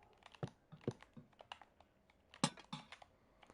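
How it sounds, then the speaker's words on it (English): Quick irregular keystrokes clack on a computer keyboard, close and fairly quiet, in uneven bursts with a few louder taps. "He's a quick typer, I've noticed."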